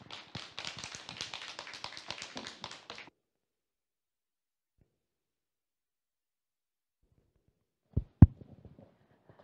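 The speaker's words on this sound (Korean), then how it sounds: "여러분 큰 박수로 맞이해 주시기 바랍니다" An audience at a 2021 World Space Week event at a science museum claps to welcome a lecturer: about three seconds of dense applause, then silence broken by a couple of faint thumps.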